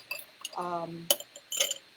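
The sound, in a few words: ice cubes clinking into a tall Collins glass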